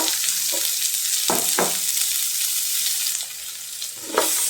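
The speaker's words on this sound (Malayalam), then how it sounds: "നന്നായി വഴറ്റിയെടുക്കാം." Onion sizzles steadily in hot oil with mustard seeds and dried red chilies in a pan for a bitter gourd stir-fry. Constant frying hiss is broken by a few scraping stirs of a spoon, close up, with no voices.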